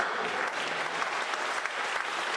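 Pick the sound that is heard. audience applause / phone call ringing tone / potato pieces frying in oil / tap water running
audience applause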